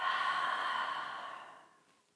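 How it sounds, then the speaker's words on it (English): A single long exhale out through the mouth during a yoga and meditation session, a soft breathy rush that starts clear and close and fades gradually to quiet. "Exhale out through your mouth."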